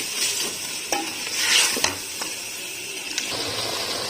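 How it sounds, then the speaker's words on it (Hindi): Yogurt stir-fried with salt in a pan for a white matar pulao, soft sizzling with a spoon scraping and stirring in a few distinct strokes, close and fairly quiet. "दही को भी मैं इसके साथ ही भून लूँगी"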